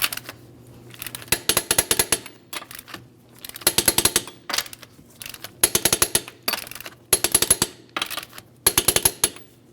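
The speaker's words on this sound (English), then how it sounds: "I'm going to torque each one of these lug nuts in a crisscross manner to that 110 foot-pounds" A torque wrench tightening lug nuts in a crisscross pattern to 110 foot-pounds on a 2005-2010 Chrysler 300 wheel: sharp, close ratcheting clicks in about a dozen quick bursts with brief pauses between them.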